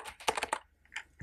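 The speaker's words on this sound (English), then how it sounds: "So what I'm going to type is sudo" Someone types a short command on a computer keyboard, with a quick run of close, light key clicks, a brief pause, then a final tap.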